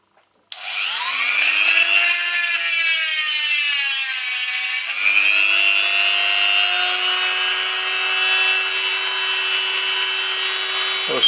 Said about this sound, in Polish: bierzemy szlifiereczkę z takim kamyczkiem i oszczymy od wewnętrznej strony